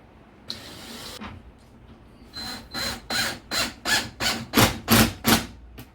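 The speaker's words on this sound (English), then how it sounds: "I would pre-drill it." A drill bores a pilot hole for a screw at the top corner of a glass panel on a Riverstone Legacy 42FSKG fifth-wheel, starting with a brief spin then about nine rhythmic, close bursts of rising whine and grinding, alone without talk.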